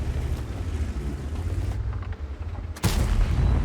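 A tank gun shot in World of Tanks, from a HO-RI 2 tank destroyer, rings out as a sudden loud blast near the end, with rumbling engine and battle noise before it.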